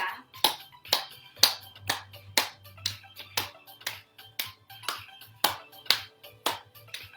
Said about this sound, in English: You ever notice how great it feels when you clap?